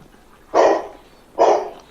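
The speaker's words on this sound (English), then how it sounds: "Dog, what is it? You're not answering my question. You're just barking." A dog gives two loud, sharp barks about a second apart, close and clear with no talking over them.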